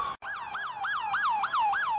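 Emergency vehicle siren at the 9/11 response scene, wailing in a rapid, loud, repeating rise-and-fall yelp close by, preceded by a brief cut of silence.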